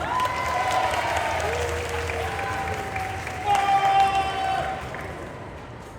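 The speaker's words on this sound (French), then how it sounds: "Et je vous demande un tonnerre d'applaudissements pour notre interprète Sarah." Convention audience at the Paris Manga & Sci-Fi Show applauding a panel interpreter, a broad sustained clapping roar with voices and cheers threaded through it, swelling slightly midway before easing off.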